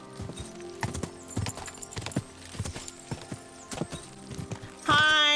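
Horse hooves clip-clop in the medieval game Kingdom Come: Deliverance 2, an irregular run of distinct hoof strikes at moderate distance, ending with a brief horse whinny.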